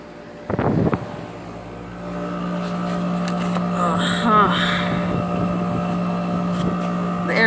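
A 2008 NuTone 2.5-ton heat pump runs with a steady low hum and a constant whoosh of blowing air, preceded by a brief clatter near the start and with faint squeaks over the drone.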